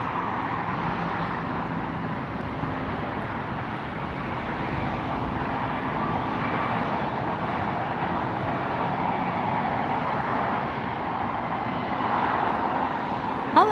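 A KLM Boeing 787-10 Dreamliner airliner rolls out after landing on the south side of Los Angeles International Airport, its engines a steady, moderately distant roar that holds throughout with no talk.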